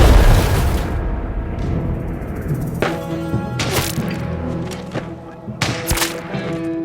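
Bombing explosions from a World War II battle between Soviet and Nazi forces: several deep booms and heavy thuds roll out one after another over a continuous low rumble, with sharper blasts landing near the end.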